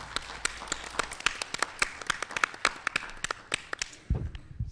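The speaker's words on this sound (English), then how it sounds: "Let's have a round of applause for all our speakers." An audience at a conference applauding the speakers, with scattered, fairly light claps at a moderate distance that build and then thin out, ending with a brief thump near the end.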